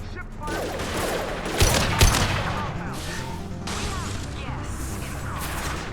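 Gunfire in the Mass Effect 2 video game crackles in a dense, sustained fusillade with a couple of sharper heavy shots, game voices and effects mixed underneath.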